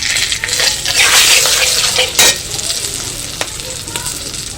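Kashmiri chili powder hitting hot oil in a pan for a mustard hilsa curry, a loud close sizzle with stirring scrapes and a sharp clink of utensil on metal, no voices.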